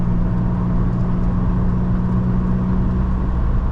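Car engine droning steadily while driving on a scenic road, a constant low hum with road and cabin noise throughout, no clear gear shifts or rev changes, no talking.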